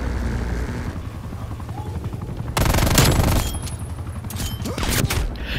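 Bursts of automatic gunfire in Call of Duty Black Ops Cold War, rattling over the steady thrum of an attack helicopter overhead, with a loud burst in the middle and more shots following.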